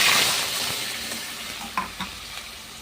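Whole spices, five-spice and dried and green chillies sizzle in hot oil as a tempering for dal, a close steady hiss that fades slightly, with a few light clinks of a utensil against the pan.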